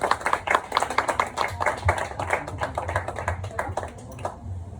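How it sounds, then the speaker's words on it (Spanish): Audience applause for a speaker named Edgar at a Computer Science talk night, many hands clapping in a dense, steady patter that continues throughout, fairly close. "un aplauso muy fuerte para Edgar"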